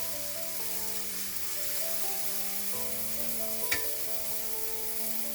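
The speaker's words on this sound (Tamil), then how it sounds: "லைட்டாக சிசில் வர்றப்ப இந்த சாக்லேட் சிப்பை இந்த மாதிரி போடணும்." A buttermilk chocolate chip pancake fries in a pan with a continuous, even sizzle heard up close, with one small clink partway through and no voices.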